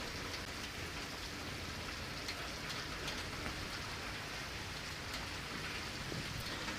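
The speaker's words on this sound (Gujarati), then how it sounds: "બાબરા શહેરમાં આજે ત્રીજા દિવસે વરસાદ યથાવત છે." Steady rain pours down in the town of Babra, a dense, even hiss of drops on surfaces holding constant throughout with no voices.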